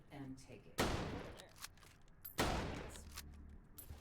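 Two loud, booming shotgun blasts from a video game speedrun, spaced about a second and a half apart, each trailing off into a rumbling decay, with quiet commentary talk between them.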